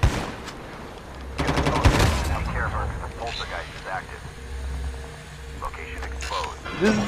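Shotgun blasts and gunfire ring out in an intense duo-versus-squads shooter match, with bursts of loud shots near the start amid game effects and a low vehicle rumble, while players shout over the action.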